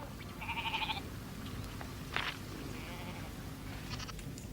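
Sheep bleat in a few separate bursts, wavering calls from more than one animal over a low outdoor hum, at moderate distance with no talk.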